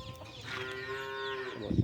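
One long, drawn-out Jersey cow moo, close by and clear, fading at the end into a brief rustle.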